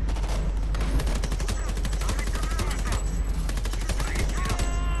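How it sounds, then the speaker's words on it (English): Assault rifle fire in Homefront: The Revolution, a dense run of rapid automatic bursts and overlapping shots that stays loud and continuous throughout, mixed with game battle noise and some voices. "I need to fix this recoil to this damn assault rifle"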